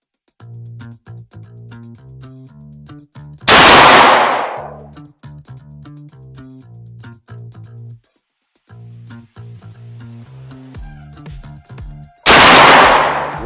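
Two loud, sharp shotgun blasts firing 2 3/4 inch slugs, each booming and decaying over a steady musical background, several seconds apart.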